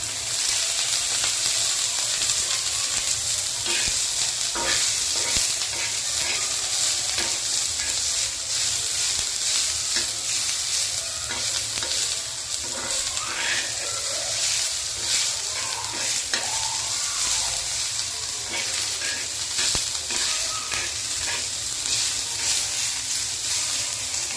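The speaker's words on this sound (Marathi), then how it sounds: "आता हा कांदा चांगला लालसर होईपर्यंत परतून घेऊ। तर आपण परतण्यासाठी आपण थोडे तेल टाकू।" Onion being stirred and fried in oil in a pan, a steady close sizzle with frequent scraping stirs throughout.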